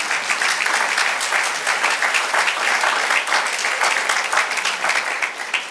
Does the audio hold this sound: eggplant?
no